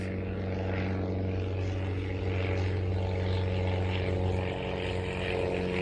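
A propeller airplane drones steadily overhead, a continuous low engine hum with a broad whooshing wash that stays even and fairly loud throughout, with no voices.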